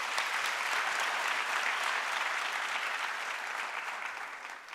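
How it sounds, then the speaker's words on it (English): Audience applauding at a Faculty of Health Sciences oath taking ceremony, dense steady clapping from a large crowd heard from a distance, fading slightly toward the end. "Can we give her a big round of applause?"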